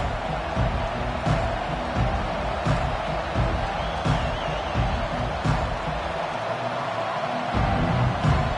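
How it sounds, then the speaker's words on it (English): A college football stadium crowd roaring at an Alabama kickoff, a dense, sustained wall of cheering and noise with a few thumps, steady and loud throughout. "This crowd trying to show them what it's going to be like all day in this house."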